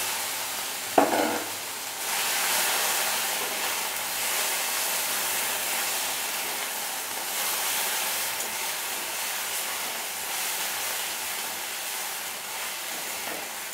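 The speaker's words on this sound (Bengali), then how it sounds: "মশলাটা 15-20 সেকেন্ড আমি একটু নাড়াচাড়া করে লাল লাল করব" Spice paste stirred and fried in a pan for a Bengali katla fish kalia, with a steady close sizzle running for the whole stretch and a brief sharp clatter near the start, no talking.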